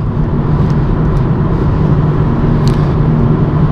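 A BMW M135i drives on a road in Northern Scotland, heard from inside the cabin as a loud, steady engine and road roar with a constant low drone and no speech.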